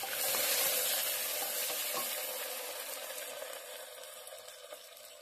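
Onions fry in a pan with cumin for a brinjal gojju, producing a dense, steady sizzling hiss that is loudest at first and slowly eases off.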